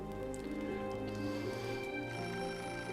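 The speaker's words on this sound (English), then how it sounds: "Oh, phone's ringing." In the video game Beholder, a telephone rings softly and continuously beneath a quiet, steady ambient backdrop with no talking.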